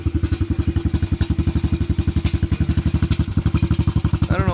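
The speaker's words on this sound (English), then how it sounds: "I don't know why the exhaust is rattling like that." A Venom Madix 125 motorcycle engine running with a steady, rapid rattling exhaust, loud and close, the pulsing beat continuing throughout without pause.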